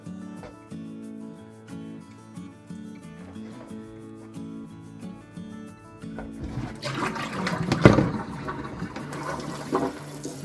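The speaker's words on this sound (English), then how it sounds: "You might have to rinse it a couple times to try and get the water as clear as possible." Water runs and splashes during the rinsing of homemade butter, quiet at first with faint background music, then a louder gushing, sloshing stretch in the second half.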